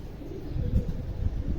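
Racing pigeons descending during a pigeon-flying contest, giving low, throaty cooing that rises and falls in close, continuous bursts.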